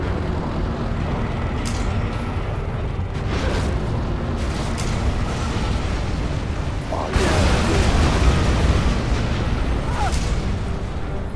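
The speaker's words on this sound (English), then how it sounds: "Our Scud Storm has been launched." Scud Storm missile explosions in Command & Conquer Generals Zero Hour: a dense, loud, continuous rumble of blasts and booms, swelling sharply partway through and staying heavy to the end.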